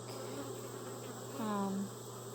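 Honeybees hum in a continuous, close drone during a hive inspection, as frames of comb with stored nectar are opened, with a brief faint voice-like tone partway through.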